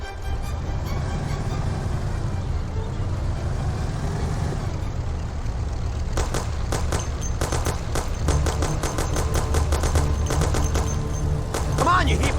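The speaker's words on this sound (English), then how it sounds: "Take my Thompson. You and Sam shoot them." Thompson submachine gun fire in Mafia: The City of Lost Heaven, with rapid bursts of shots crackling through the second half over a steady low rumble of a car engine.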